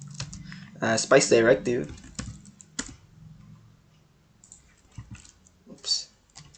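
Rapid clicking of computer keyboard keys while a circuit directive is entered into LTspice simulation software, close and light, running beneath a man's ongoing speech.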